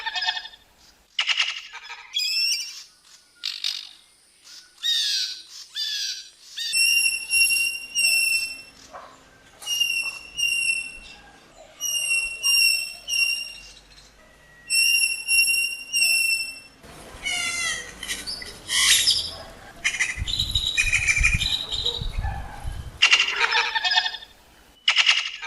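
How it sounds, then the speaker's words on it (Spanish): Harsh, metallic whistles and clicking squeaks from a great-tailed grackle courting a female repeat in bursts, fairly close, with a rustling, noisy stretch midway, in Pacaya, Coatepeque, Quetzaltenango. "El clarinero con ese su peculiar sonido y su baile majestuoso atrayendo a la hembra"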